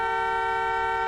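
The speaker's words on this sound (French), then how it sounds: "Maman, arrête de klaxonner." A car horn held in one steady, loud, continuous honk, with no other sound around it.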